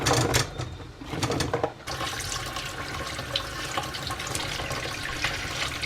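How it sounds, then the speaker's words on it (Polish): Water runs steadily from a tap, splashing and rattling as strawberries are rinsed under it, close by with no talking. "w międzyczasie umyję truskawki"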